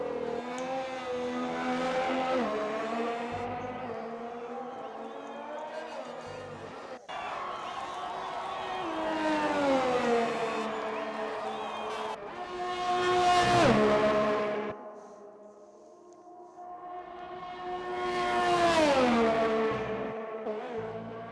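Racing video game Ferrari race car, number 19, lapping the British Grand Prix circuit, its engine whining up and down through gear changes, with two loud, swelling pass-by peaks late on and a broadcast voice faintly underneath.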